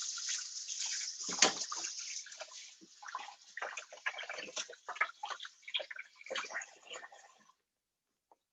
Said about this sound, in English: Let me give my hands a rinse.